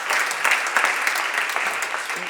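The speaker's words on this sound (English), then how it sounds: "Let's give our staffs, all of our staffs, a big round of applause." A big round of applause for staff on the Senate floor during a senator's farewell, with a dense, even crowd clapping that holds steady and loud throughout.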